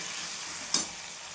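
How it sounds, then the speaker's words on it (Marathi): Potatoes with green chillies sauté for sabudana khichdi in a pan, giving a steady bright sizzle with one quick stir or scrape partway through. "छान कलर छान लाल येईपर्यंत आपल्याला परतून घ्यायचं आहे"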